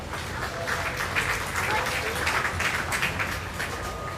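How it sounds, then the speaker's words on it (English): Sustained crowd applause fills the hall at an FFA awards show at the Minnesota State Fair, a steady dense clapping texture with some voices mixed in, holding evenly throughout. "Give them a round of applause."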